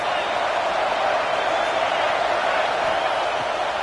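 A large stadium crowd at a USC football game roars steadily through a third-down red zone play, a dense, loud wash of noise with no break.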